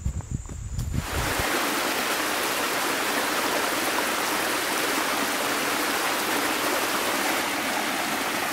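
A small cascade on a stream beside a woodland trail rushes steadily and loudly. A brief muffled rustle comes at the start, then the water holds a constant hiss with no voices.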